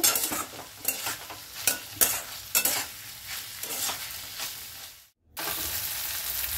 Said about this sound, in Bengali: এবারে সবজিটা আমার খুব ভালো করে ভাজা হয়ে গেছে